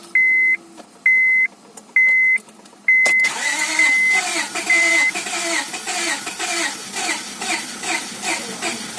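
After a rear main seal replacement, a car's warning chime beeps four times in a steady rhythm, then the engine cranks and catches, settling into a close, pulsing idle that runs on loud and uneven.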